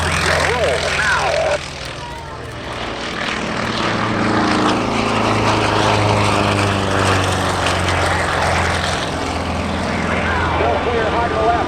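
Twin Tigers aerobatic propeller airplanes at an air show drone overhead, their engine roar swelling and shifting pitch as they pass, with an announcer talking over the noise.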